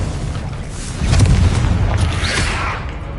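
Confringo explosive spell blast in Hogwarts Legacy, a deep booming rumble that swells after a second and lingers, loud and close, with no talking.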